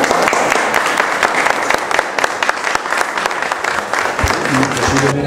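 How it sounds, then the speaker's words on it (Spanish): Loud, sustained applause from an audience at an art exhibition after a painter speaks about the works, thick clapping throughout with crowd voices mixed in and a brief musical tone near the end. "¡Aplausos!"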